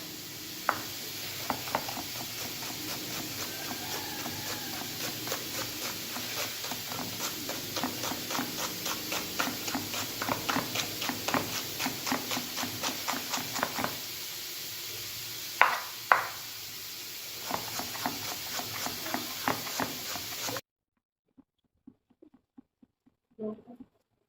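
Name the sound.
onion being finely chopped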